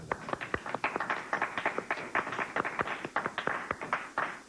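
A television talk-show studio audience bursts into steady, fairly dense applause, sharp overlapping claps continuing for several seconds at moderate loudness with no voices over it.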